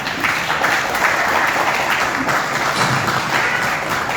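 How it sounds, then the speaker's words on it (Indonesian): Audience applause at an Indonesian PDI-P party press statement, a continuous, fairly loud clatter of many hands clapping that holds steady throughout. "tepuk tangan dulu"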